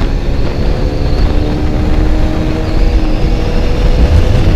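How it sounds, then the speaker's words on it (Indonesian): Kawasaki Bajaj Pulsar 200NS 200 cc motorcycle engine pulling hard under acceleration while riding, a loud, steady droning roar with rising engine tone and wind noise throughout. "Nah, motor ini punya untuk 200 cc dia termasuk oke banget loh tarikannya."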